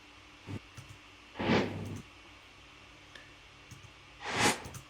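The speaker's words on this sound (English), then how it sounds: "So we have the swishing noise, which took a while to find out" Airy swishing effects made for an anime edit: two broad whooshes, one near the middle and one near the end, with a few faint clicks between them and no talking.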